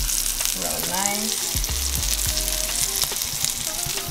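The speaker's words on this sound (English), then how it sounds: "You have to make sure your oil is piping hot. We're going to let that cook in there real nice." Food frying in piping hot oil on a home stove, a steady close sizzle and crackle with a few clinks and stirring sounds.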